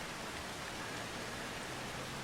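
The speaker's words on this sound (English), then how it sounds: "Oh, it's raining." Steady rain in the farming video game Farming Simulator 25, a dense even hiss of falling water that fills the whole moment without breaks or voices.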